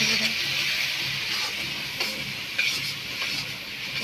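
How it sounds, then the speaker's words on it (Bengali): Onion and garlic paste for a spicy tengra fish curry frying in a pan, with a steady loud sizzle and hiss and occasional scrapes of a stirring spoon, continuous and close. "এখন এটাকে কষাবো ভালো করে দুবার"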